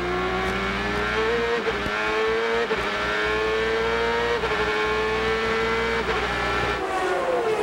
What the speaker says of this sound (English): Let's listen to how Scott Pruitt handles the throttle chores of the run up to the green.